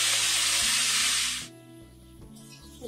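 Finely cut pumpkin and green chilies go into hot oil in a kadhai, raising a loud, close sizzle that holds steady, then abruptly drops to a quiet, low hiss.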